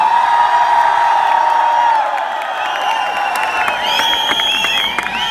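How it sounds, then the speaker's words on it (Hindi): A large, loud audience of young people at a motivational talk cheers and shouts continuously, a dense sustained roar with whoops rising toward the end. "आप खुल के ही पहले चिल्ला लो"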